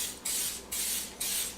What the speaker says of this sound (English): We're going to spray it with some coconut oil.